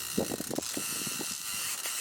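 A fishing reel's ratchet clicks in quick, irregular bursts as a sturgeon takes the bait while fishing the Fraser River in summer, faint and close against steady outdoor background noise.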